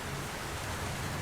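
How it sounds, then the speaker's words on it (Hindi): Steady cartoon rain pours down in a Hindi crow cartoon, a continuous even hiss of falling water with no voices over it. "बारिश का पानी पूरा घोंसले में आ रहा है।"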